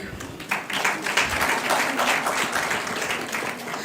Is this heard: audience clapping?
yes